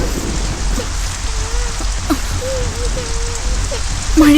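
Rain falls steadily in a constant close hiss with no breaks, while a voice makes a few short calls over it.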